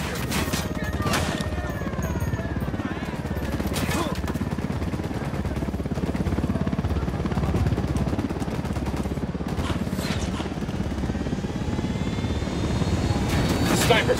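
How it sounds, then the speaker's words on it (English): Helicopter rotor noise from the video game Ghost Recon Wildlands, a loud continuous thrum that fills the whole stretch, with gunfire bursts and voices over it. "Hit the dirt, helicopter."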